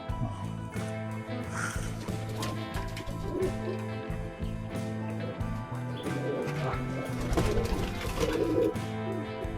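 Pigeons coo in low, throaty bursts close by, the soft rolling calls repeating throughout amid some background noise and faint voices.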